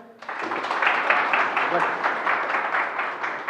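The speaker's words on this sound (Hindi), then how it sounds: "ताली बजा दो" An audience applauds after a talk by a successful Bhabha Atomic Research Centre technician candidate, a dense, steady wash of clapping that starts abruptly and carries on evenly, fairly loud, to the end.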